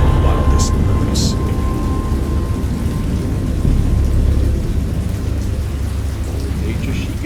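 Heavy rain pours steadily in a great storm with a low, rumbling thunder undertone throughout, dense and close, with a few faint higher ticks.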